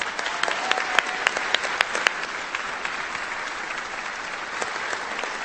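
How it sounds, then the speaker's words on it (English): Graduation crowd at a Washburn Tech spring commencement claps steadily for several seconds, a dense wash of many hands with a few sharper individual claps standing out, moderately loud and alone without speech. "Let's give them another round of applause."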